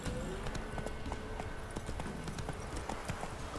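A horse trots with rhythmic clip-clop hooves in the video game The Witcher 3: Wild Hunt, steady and close over faint background game ambience.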